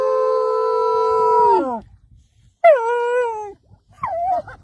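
A stray dog howls in long, loud, sustained tones that slide downward, then after a pause gives a shorter wavering howl and a brief high whimper.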